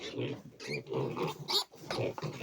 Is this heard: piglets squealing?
yes